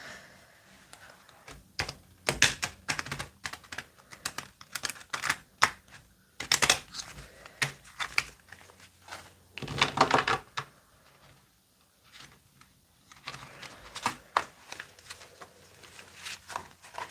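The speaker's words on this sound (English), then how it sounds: "Let's shuffle these cards." Rapid, crisp card shuffling repeats in bursts of riffling and flicking, close by, with brief pauses between rounds and no talking.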